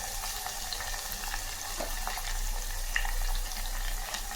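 Crushed garlic, dried red chillies and curry leaves fry in hot oil for a spicy Tamil tomato chutney, giving a steady close sizzle with a few faint clicks and no talk.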